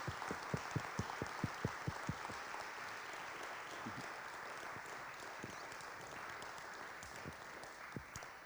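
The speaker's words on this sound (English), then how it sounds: "Big applause for you." Audience applause after a talk on activating sports spaces in Denmark, opening with a few loud, distinct claps up close before settling into a softer, continuous wash of clapping from the room.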